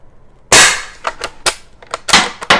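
A Legends Cowboy lever action CO2 air rifle fires several sharp pops in quick succession with metallic clicks of the lever cycling and shells ejecting, loud and close without talk.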